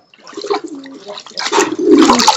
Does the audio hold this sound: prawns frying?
no